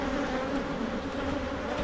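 Honey bees droning steadily at an open hive during a fall inspection, a continuous close buzz with a low hum running through it and no voices.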